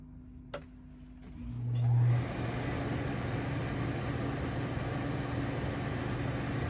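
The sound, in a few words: RV air conditioner running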